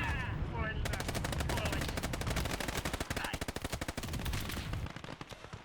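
Rapid machine gun fire in the Gates of Hell World War II strategy game, long sustained bursts of fast, evenly spaced shots, loud and close, with a brief gap near the start and the firing tapering off at the end.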